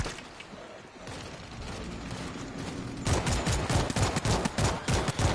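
Rapid automatic gunfire from a weapon in the zombie shooter World War Z, starting as a quieter steady rattle and then jumping to loud, dense bursts of shots for the last seconds.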